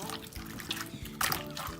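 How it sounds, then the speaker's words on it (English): Water poured into homemade slime trickles and splashes softly, a quiet liquid dribble with a slightly louder splash toward the end. "Let's pour a little bit more water."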